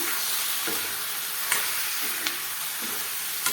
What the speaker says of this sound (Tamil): இதை சேர்த்துட்டு நல்லா வதக்கி விட்டுருங்க